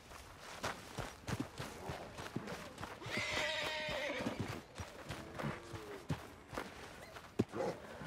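A horse whinnies loudly in the middle while hooves clop steadily throughout, close by and fairly faint overall.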